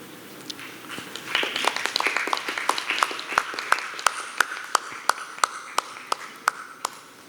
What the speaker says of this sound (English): let us give a big round of applause to Mohan Kundumel, sir.